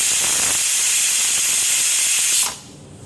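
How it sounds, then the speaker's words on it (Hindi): A loud, steady rush of hissing steam pours out of a pressure cooker cooking dal for over two seconds, then cuts off abruptly, leaving near silence. "ये इसका प्रेशर निकल गया।"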